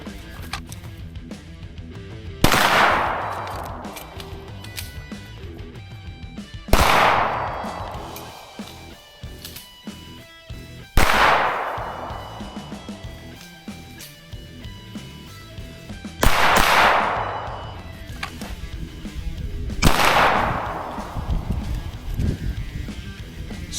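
Staccato XC pistol shots ring out during a paper and steel shooting drill, five loud sharp reports spaced a few seconds apart outdoors, each with a long decaying echo.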